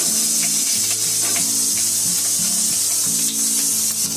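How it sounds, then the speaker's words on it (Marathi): Ginger, garlic and green chili roasting with dry coconut in a pan give a steady, close sizzle and hiss, with no voice over it. "त्याच्यामध्ये आलं, लसूण, मिरची आणि खोबरं चांगलं भाजलंय"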